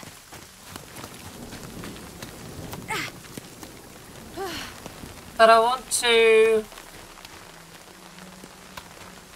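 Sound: hail falling in video game Nightingale

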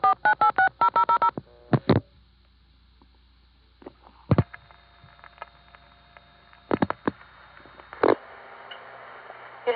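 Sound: telephone dialing tones (MF) in 1975-76 phone phreaking recording

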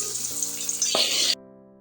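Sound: mustard seeds, dried chili, curry leaves frying in coconut oil

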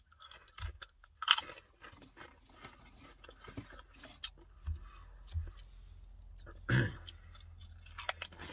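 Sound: chewing and crunching Pringles Hot Ones chips

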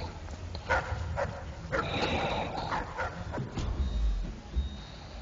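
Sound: hyena-like animal barking in the video game Dishonored

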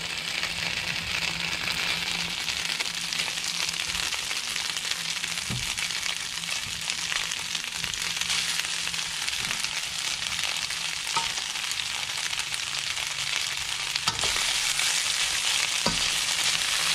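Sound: stir-frying beef noodles sizzling in a pan

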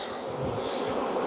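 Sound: honey bees buzzing in an opened hive

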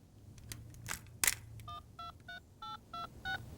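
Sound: telephone number being dialed

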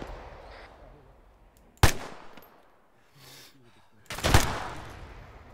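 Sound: gunfire in the video game ArmA

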